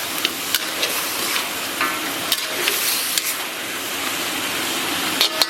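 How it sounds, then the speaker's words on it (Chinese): Pork ribs stir-fry in a wok with a loud, close, constant sizzle, broken by sharp clacks and scrapes of a spatula against the metal every second or so, with no one speaking. "然后咱们把排骨给它下里边，简单的给它煸炒一下，给它煸炒上色"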